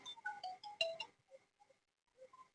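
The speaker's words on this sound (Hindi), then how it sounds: "सॉरी फोन आ गया था।" A phone ringtone plays a quick melodic run of bright electronic tones, then quieter scattered notes follow, faint and somewhat distant.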